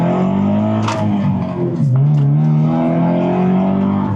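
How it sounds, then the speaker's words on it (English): Cars revving and passing in traffic: a continuous loud engine drone with harmonic hum rising and falling as vehicles move, with a few brief sharper bursts. "there's like a million cars behind me"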